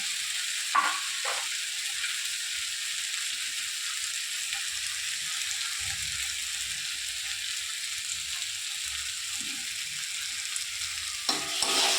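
Soaked Gobindobhog rice frying in a pan with a steady, close sizzle throughout, interrupted by a few brief stirring scrapes near the start and again at the end.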